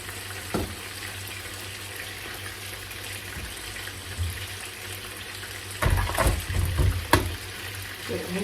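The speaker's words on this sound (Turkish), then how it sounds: "Bunu güzelce bir kavurayım." Food sautéing in a pan, giving a steady broadband sizzling hiss under a low hum, with louder crackling bursts toward the end.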